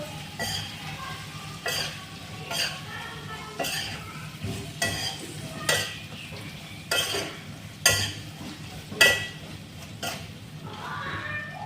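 Jackfruit curry stirred and fried in a pan, with repeated scraping strokes of a spoon at a steady rhythm over a constant low sizzle, close and clear, with no talking.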